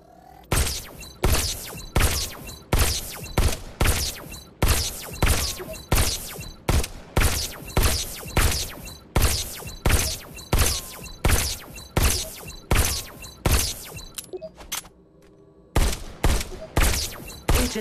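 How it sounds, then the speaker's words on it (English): Rapid pistol gunfire in the virtual reality shooter Robo Recall, a long run of sharp, loud shots at a steady quick rhythm with a brief pause near the end before the firing resumes. "Just squeeze the trigger to shoot."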